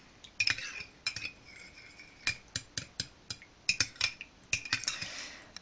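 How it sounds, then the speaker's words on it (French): A hair shine treatment is stirred in a bowl, with a quick run of light, close clinks and taps of a utensil against the bowl's sides in an irregular rhythm. "Et donc je viens mélanger mon tout."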